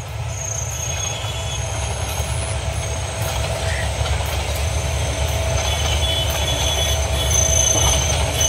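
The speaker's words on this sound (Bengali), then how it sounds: "এই যে আমরা রাত্রে ট্রেন যাইতেছে আর কি" A train passes at night on a Bangladeshi line near Mohanganj, its steady low rumble and rolling wagons building in loudness, with thin metallic wheel squeals and faint clicking running through it.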